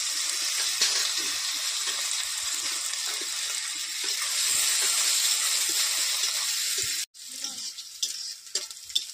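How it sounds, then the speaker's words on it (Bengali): Cooking oil poured onto onions frying in a pan: a loud, steady hiss of sizzling that runs for several seconds, then cuts off sharply before some quieter clatter follows. "এখন তেল দিয়ে দিই।"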